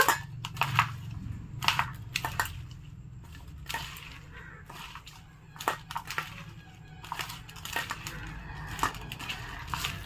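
Chopped vegetables being mixed by hand with salt, turmeric and Maggi masala for bread cutlets, soft irregular squelching and crunching with brief clicks and knocks against a bowl, close and quiet with no voices.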